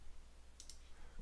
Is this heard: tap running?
no